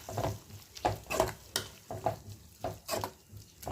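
Grated coconut being stirred into a bottle gourd kootu in a pan, a series of rhythmic scraping and sloshing strokes about every half second, close and moderately loud with no talk.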